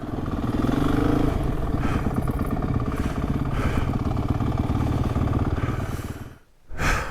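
A 2022 KTM 300 EXC two-stroke dirt bike descending a hill, its engine burbling and clattering close and loud throughout before cutting out briefly near the end and catching again.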